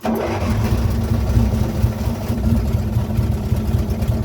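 1984-85 Carl Heald Mark hauler with a small engine caught mid-start on choke, a rough, throbbing mid-pitched run that settles into a steady pulsing idle, close and loud, with no voices.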